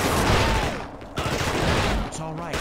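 Continuous loud gunfire aimed at a wooden box in the PS2 game The Thing, a dense rattling barrage with a short break midway, a voice mixed in underneath.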